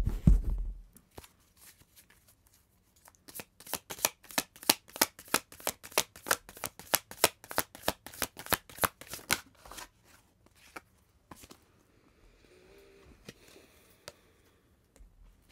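Tarot cards are handled and then riffle-shuffled in a long, fast run of crisp, close flicks, with quieter card sliding and handling before and after it.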